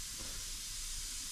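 Tack welding on a MK2 Escort sill and inner arch, a steady loud crackling hiss that continues for over a second before cutting off abruptly.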